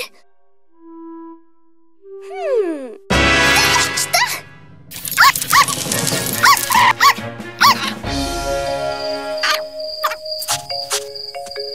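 Cartoon dog barks and yips in a short burst amid whistling cartoon sound effects and music, with crickets chirping in a night scene.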